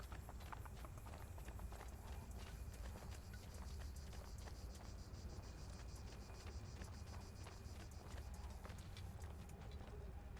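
A horse in Assassin's Creed 2 gallops toward the player, its hooves making quick, repeated clip-clop beats that run steadily throughout at a moderate distance over quiet game ambience.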